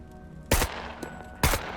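Two gunshots about a second apart in the video game SCUM, fired through an improvised bottle suppressor, each a short, punchy burst over quiet background hiss.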